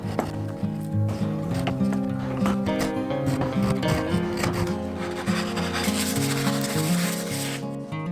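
Sandpaper rubs back and forth over a wooden ukulele neck in quick, continuous rasping strokes, close and clear, with background music running underneath.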